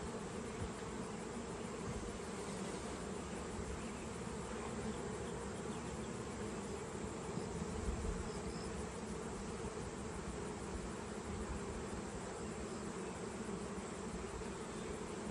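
Honeybees from an opened hive found in a 200-year-old historic home swarm and buzz continuously for about fifteen seconds, a dense, steady drone of many wings close by, without any talking.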